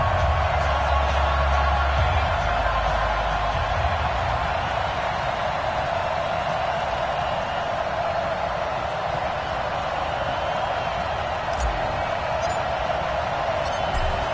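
A stadium crowd in a Madden NFL game roars as a steady, unbroken wall of noise for the whole stretch, with no clear peaks.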